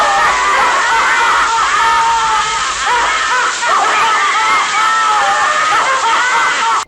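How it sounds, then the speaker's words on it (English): Handcrafted sailor figures activated together give off a dense, continuous chorus of shrieking, wavering laughter, loud and unbroken for several seconds, with one voice screaming above the rest. "a collection of sailors that, when activated together, fills the house with a shrieking laughter that can drive you insane"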